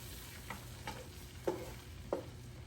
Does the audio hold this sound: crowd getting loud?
no